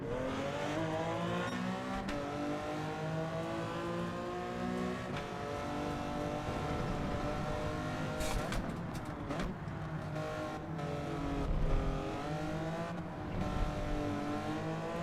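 Race car engines in the video game Gran Turismo 7 at Yas Marina or Montreal, several engines droning and revving together in a pack, steady pitch swells and shifts, loud and continuous throughout.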